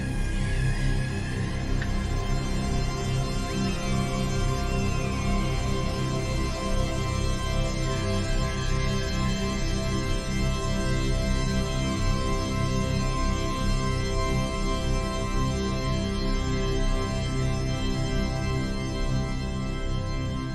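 A sample resampled in Image-Line Harmor and stretched far out in time, turned into a dense, smeared drone with faint shimmering upper tones, steady and continuous throughout with no voices.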